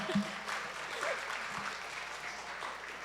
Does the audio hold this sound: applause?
yes